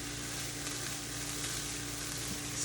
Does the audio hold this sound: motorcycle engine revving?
no